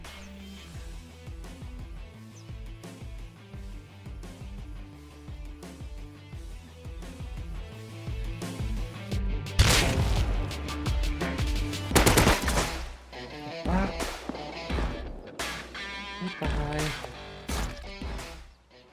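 Rapid bursts of gunfire in the game Rust over a steady rhythmic soundtrack, with a cluster of loud sharp double-barrel shotgun blasts partway through.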